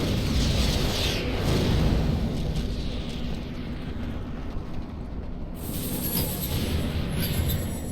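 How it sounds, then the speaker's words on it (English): A loud, roaring blast from the fantasy role-playing game Dragon Age: Origins rumbles and hisses steadily throughout, with a bright crackle near the end. "Another explosion!"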